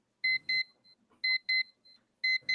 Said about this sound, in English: the Casio is loud enough to where if I'm in a coma,